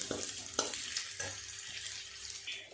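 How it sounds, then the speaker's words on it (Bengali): Crushed garlic cloves frying in oil for a prawn curry, a soft steady sizzle with a few light stirring knocks, fairly quiet and close. "একটু নেড়ে চেড়ে রসুনটা লাল করে ভেজে নেব।"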